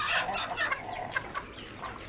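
A big multi-coloured farm rooster of a large meaty variety, with a nose ring being fitted, lets out several quick, nearby clucks in rapid succession against low background noise.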